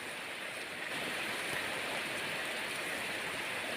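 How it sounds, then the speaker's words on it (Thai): Heavy rain pours down on a cattle pasture in a continuous rushing hiss, swelling slightly after the first second and staying loud to the end. "ฝนตกค่ะฝนตกพี่น้อง"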